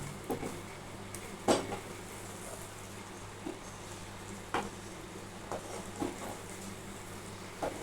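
Milk filling for modak is stirred in a pan: occasional sharp clinks and scrapes of a utensil against metal over a soft, constant low sizzle, close and fairly quiet.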